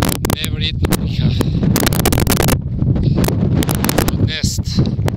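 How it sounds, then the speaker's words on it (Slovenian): Strong mountain wind gusts hard against the microphone in harsh, buffeting bursts, loud and close, while a person talks through much of it. "Neverjetno piha."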